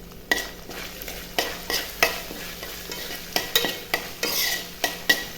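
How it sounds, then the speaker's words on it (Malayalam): Ginger, garlic and curry leaves sauté in a pan for a beetroot, carrot and dates pickle, a soft sizzle punctuated by regular scraping strokes of a spoon about twice a second, close and without talk. "കുറച്ച് കറിവേപ്പില കഴുകിയത് ഇട്ട് കൊടുത്ത് ഒന്ന് വഴറ്റി കൊടുക്കുക"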